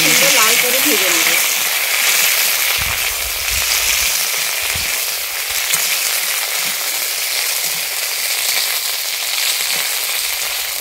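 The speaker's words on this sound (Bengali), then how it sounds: "আমি ভেন্ডিগুলোকে ভেজে নিচ্ছি।" Okra (bhindi) frying in hot oil in a pan for dahi bhindi, a steady, close, dense sizzle that hisses continuously throughout, with a few soft low knocks of handling underneath.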